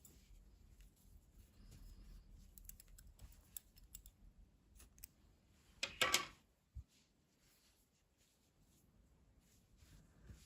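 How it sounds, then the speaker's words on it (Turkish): Scissors snip through crochet yarn in a quiet room: one short, crisp cutting burst after a stretch of soft handling noises. "İpliği kesiyorum."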